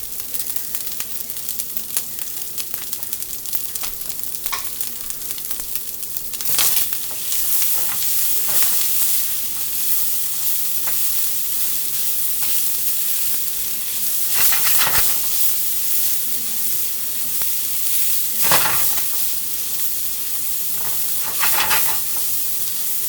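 Rice seasoned with salt and pepper fries and browns in a pan, a loud steady sizzle and hiss close by, broken by occasional stirring scrapes and louder bursts, with no one speaking.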